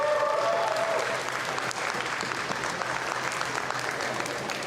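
Sustained audience applause at the AIDA Pool World Championship in Kaunas for a Swedish freediver finishing a dynamic bifins swim, steady dense clapping filling the whole stretch with a brief voice early on.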